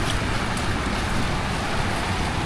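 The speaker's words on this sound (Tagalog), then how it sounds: "Lakas ng agos ng tubig" Strong floodwater current rushes steadily after a typhoon, a dense, continuous roar close by with no break or voices.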